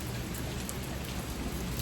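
Heavy rain pours steadily in Balneário Camboriú, a dense, even hiss with no voices over it.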